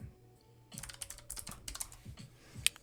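Rapid clicking keystrokes on a computer keyboard during a coding session, close and crisp, coming in irregular bursts after a short quiet start, with no voices.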